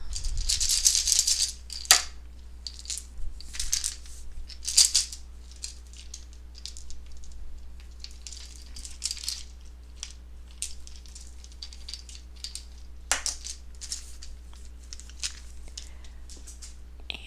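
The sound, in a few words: charms being shuffled and rattled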